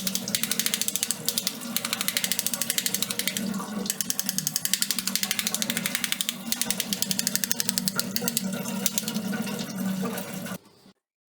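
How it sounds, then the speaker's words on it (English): An RO water purifier membrane is tapped to clean it while water flows through it, a rapid stream of small clicking taps over continuous running water, fairly close, stopping abruptly at the end. "Clean the RO membrane by tapping."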